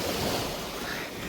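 Sea surf washing onto a beach at Coral Island, Pattaya, Thailand: a steady broadband rush of waves with wind buffeting the microphone, continuous for the whole stretch with no voices.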